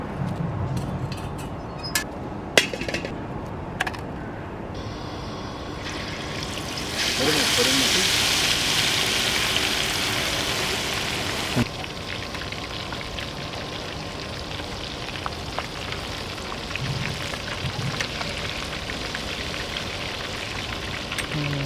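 Marinated whole chicken fries in hot oil, a steady rain-like sizzle and crackle that holds throughout, with occasional sharp clinks of a utensil and a voice speaking faintly at times.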